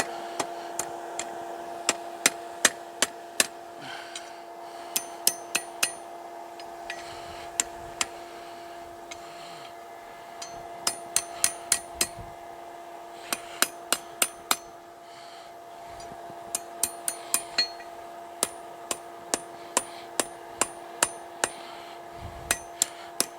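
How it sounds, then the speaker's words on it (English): Metal fire poker hammered on the horn of an anvil during forging, with sharp ringing strikes in quick clusters and short pauses, bright metallic ring over a steady background hum. "I guess I could use the horn of the anvil like it was intended for"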